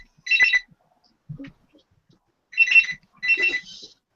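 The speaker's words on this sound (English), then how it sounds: "Phone call." Phone ringing with an incoming call, short bright electronic ring bursts repeating in a clear pattern near the mic, separated by quiet gaps and a brief muffled voice.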